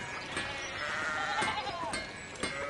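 Sheep bleat in the medieval video game Pentiment, a few faint wavering calls over quiet ambient sound.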